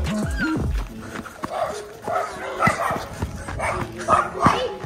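A dog barks close by in a burst of short yips and barks mixed with whimpers, while a person talks nearby.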